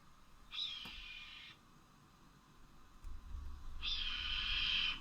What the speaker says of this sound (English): That is a red-tailed hawk.